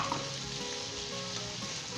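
Potatoes, carrots and peas fry in a pan with a soft, continuous sizzle and crackle, fairly quiet and steady throughout, with no talking.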